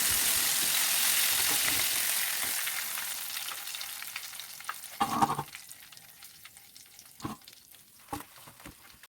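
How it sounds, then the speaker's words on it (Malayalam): Chicken pieces deep-frying in hot oil give a steady hiss that slowly dies down, followed by a few sharp clinks and scrapes of a utensil against the pan, close and fairly quiet. "തിരിച്ചും മറിച്ചും ഇട്ട് ചിക്കൻ നന്നായിട്ട് വറുത്ത്"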